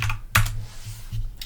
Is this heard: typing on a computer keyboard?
yes